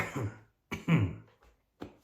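A few close coughs and throat-clearing sounds, separated by short silences, fairly loud.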